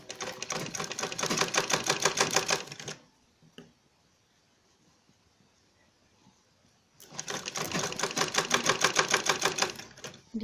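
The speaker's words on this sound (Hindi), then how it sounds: "यहाँ से ऐसे सिर्फ सीधी सिलाई लगानी है इसके ऊपर" A sewing machine runs a straight stitch along bag fabric at home in two bursts of rapid, even clatter, each about three seconds long, separated by a quiet pause holding a single faint click.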